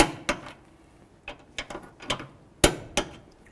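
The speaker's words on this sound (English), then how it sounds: "Let's torque these to 44 foot-pounds." A torque wrench tightens the front lower rearward control arm bolts on a 2006–2010 Dodge Charger to 44 foot-pounds: a handful of sharp, close metallic ratchet clicks at uneven intervals, with quiet pauses between them.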